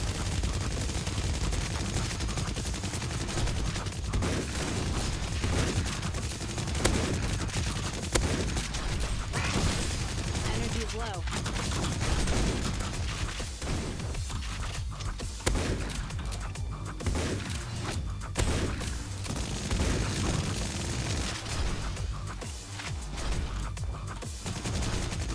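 Enemy gunfire in a video game, with dense, rapid bursts of shots rattling continuously and loudly for the whole stretch, almost without a break.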